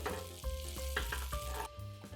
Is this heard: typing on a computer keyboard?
no